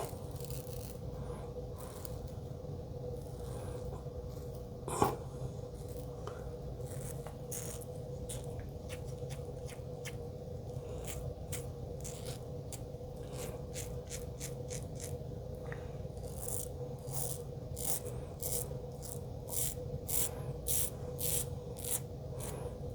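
A razor scrapes across the neck in a steady run of short, close strokes, the rasping bursts growing more rhythmic and distinct toward the end, with one sharp tap partway through and no talking.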